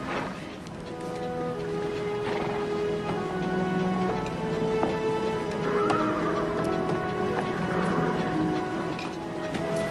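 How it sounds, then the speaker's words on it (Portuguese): Horses whinny and neigh repeatedly over a steady clip-clop of hooves, close and continuous, with a light patter like rain in the background of a dubbed Western film scene. "Carregue os cavalos."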